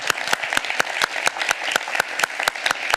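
Audience applause for military veterans at a Harvard talk, heard as sharp, evenly spaced claps from what sounds like a modest crowd, carrying on steadily without voices.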